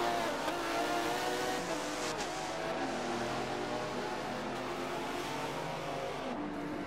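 A race car engine screams steadily around Brands Hatch in Forza Motorsport 7, a continuous high-revving drone with gear-shift dips and faint tire noise, fairly quiet and even with no talk.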